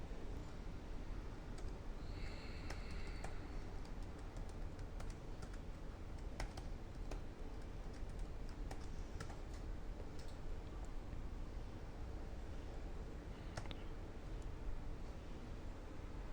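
Keys clack on a computer keyboard during software installation and configuration, irregular bursts of typing and single key presses over a low steady hiss, close and quiet, no speech.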